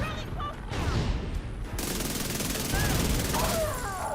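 Gunfire in the video game The Division 2, rapid automatic bursts crackling loudly and almost nonstop, with someone speaking over parts of it.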